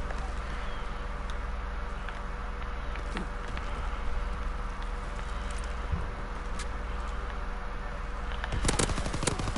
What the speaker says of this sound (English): I'm using PPSH.